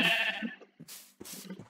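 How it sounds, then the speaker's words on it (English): Minecraft sheep bleating in the video game, one drawn-out bleat followed by two shorter ones with gaps between, close and fairly quiet. "I guess I'm gonna hit the sheep with the stick."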